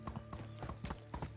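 Horse hooves clip-clop in a quick, even rhythm while riding in the medieval survival game Medieval Dynasty, close and steady with no talking over them.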